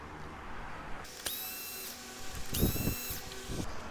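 A power driver undoes screws on a BMW R1250GSA motorcycle, two short high-pitched whirring bursts with a brief rattle between, close and loud against a quiet background.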